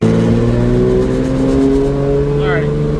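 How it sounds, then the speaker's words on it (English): A 2JZ-engined car pulls hard on about 10 psi of boost, a loud sustained engine drone with steady tonal harmonics close up, and a faint whistle-like sweep late on. "We'll go up here, turn around, and do a little 10-pound hit,"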